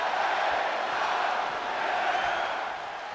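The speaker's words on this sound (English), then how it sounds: "Crowd once again on the LA Knight's side." A wrestling arena crowd cheers for LA Knight, a dense, steady roar of many voices filling the whole span at even loudness, easing slightly toward the end.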